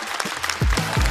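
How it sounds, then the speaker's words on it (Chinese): A stand-up comedy show audience breaks into brief applause for a performer. The clapping is close and lively, and a voice starts speaking over it partway through. "来，掌声送给张俊。"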